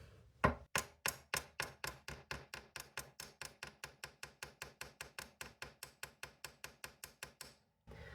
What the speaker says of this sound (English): So I'm just going to start the hammer.